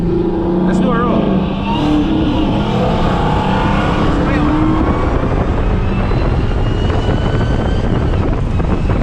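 An SRT Hellcat with 730 whp and a Camaro 2SS accelerate together in a roll race, engines roaring loud and continuous with heavy wind buffeting, while people talk over the noise.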